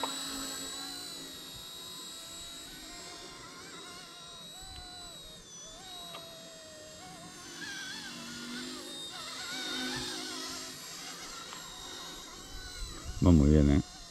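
An ERA-RC C189 MD500 ready-to-fly RC helicopter flies nearby, its small motor and rotor giving a steady high-pitched whine that rises and falls with throttle, with a brief thump near the end.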